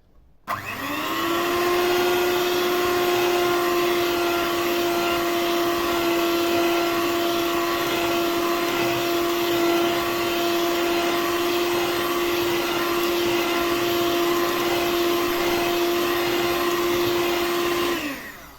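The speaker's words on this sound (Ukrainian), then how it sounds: "Оце ми зараз поки збиваємо." An electric mixer whips the mixture for a sour cream paskha, giving a loud, steady motor whine that runs without a break for most of the clip, with no talking.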